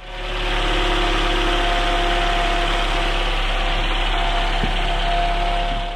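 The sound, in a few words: 2016 Toyota Camry 4-cylinder engine running after belt replacement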